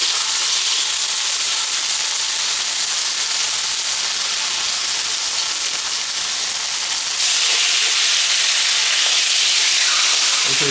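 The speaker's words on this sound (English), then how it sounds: "now I'm just going to layer the meat." Lamb chops laid into a hot pan with olive oil give a loud, steady sizzle and hiss that runs throughout and grows a little brighter and stronger near the end.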